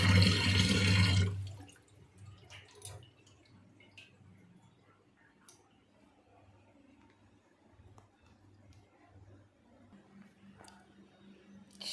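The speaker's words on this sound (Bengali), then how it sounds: "পেঁয়াজ ধুয়ে নিচ্ছি।" Running tap water splashes over greens and onions being washed, loud for the first second or two and then settling into faint, scattered drips and trickles.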